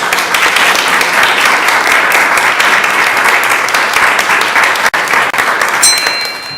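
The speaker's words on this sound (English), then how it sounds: "We can clap for him as he comes." Audience at a school board of education meeting applauds an elementary school principal walking to the podium, a loud, sustained wash of clapping from a full room that continues steadily and begins to taper near the end.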